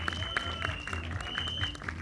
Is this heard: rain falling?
no